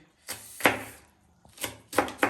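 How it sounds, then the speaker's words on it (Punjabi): A knife chops onion coarsely on a board for kachumber: five sharp, close thuds in an uneven rhythm, two pairs and a single, with short quiet gaps and no voices. "ਚਨਿਆਂ ਦਾ ਮਸਾਲਾ ਤਿਆਰ ਕਰੀਏ ਤੇ ਇਹਦਾ ਫੜਕੇ ਕੱਢ ਦਿਓ ਚੁੰਬਰ। ਥੋੜੇ ਮੋਟੇ ਕੱਟੀਏ, ਚੌਕ ਕਟਿੰਗ ਨਹੀਂ ਕਰਨੀ।"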